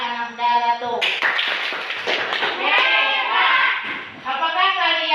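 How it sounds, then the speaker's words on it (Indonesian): A classroom of children claps for a classmate, with brisk rhythmic hand claps mixed with young voices chanting or calling out together, close and loud throughout. "Kita beri tepuk tangan kepada Ananda Ratu."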